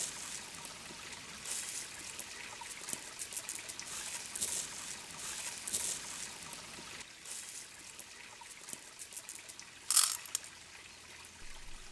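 Water from a stream trickles and drips steadily as it is filtered through cloth, sand and gravel, a soft continuous flow heard up close with a few small splashes and clinks, no voices.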